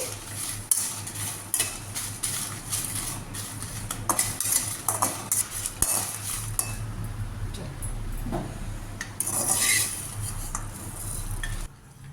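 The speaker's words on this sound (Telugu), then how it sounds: "అన్నీ స్లో ఫ్లేమ్లో రోస్ట్ చేయాలండి." Whole spices such as black pepper and cumin are dry roasted over a slow flame while a metal spoon stirs and clinks against the pan, making soft, quiet, irregular scraping and tapping throughout.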